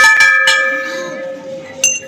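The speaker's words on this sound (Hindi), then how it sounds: "घंटी बजाओ संगम।" A metal temple bell at Ulta Garha Dham is rung several times in quick succession, each strike leaving a bright, sustained ringing tone that slowly fades, with one more strike near the end and voices faintly behind.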